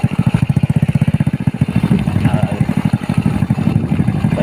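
A parked motorcycle's engine idles close by with a steady, rapid low chugging, then runs a little rougher, on an overgrown, neglected road; someone talks over it.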